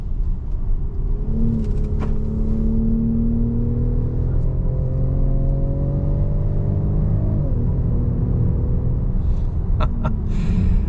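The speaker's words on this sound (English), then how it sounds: "It almost sounds like you're driving some sort of sports car when you're in the sport mode, because that piped in engine noise is so pronounced." Engine sound of a 2025 VW Atlas Cross Sport R-Line accelerating in sport mode, partly piped-in, heard from inside the cabin as a steady low rumble whose tones rise and drop with each gear change.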